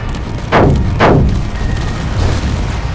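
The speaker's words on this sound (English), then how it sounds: "this next barrage should take him out completely" Weapons fire striking energy shields in the game Space Engineers, two loud booming impacts in quick succession followed by a softer third rumble, with a continuous low background hum.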